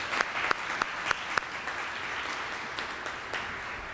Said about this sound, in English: just give them another applause